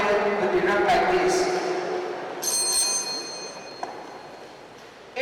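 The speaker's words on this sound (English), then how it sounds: "A warning bell will be rung at 2:30 seconds like this." A bright bell rings out once with a ringing metallic tone that fades slowly, following some speech at the start.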